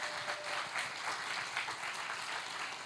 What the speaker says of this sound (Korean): 등반자 나오실 때 큰 박수로 환영해 주세요.